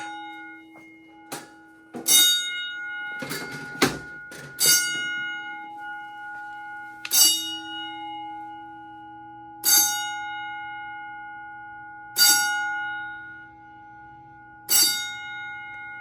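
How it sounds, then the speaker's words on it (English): A 1970s Edward 6500 two-stage fire alarm control panel pulses its bells: loud metallic clangs strike in a steady rhythm about every two and a half seconds, each ring decaying over a faint background hum, with no voices. "you can see when it pulses the bells"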